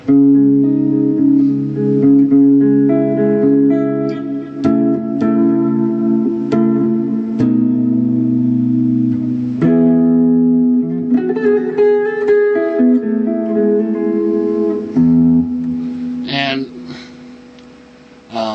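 A clean electric guitar through a small Fender Champ tube amp plays sustained notes and chords with a warm, full tone, plucked strings ringing out continuously at close range.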